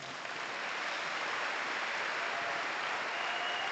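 Steady, dense applause fills a church gathering as a congregation acclaims Jesus Christ, a continuous even roar of clapping with no voices standing out.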